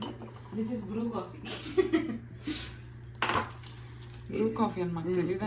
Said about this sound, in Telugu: కాఫీ కలుపుతా ఉందన్నమాట మా చెల్లి కాఫీ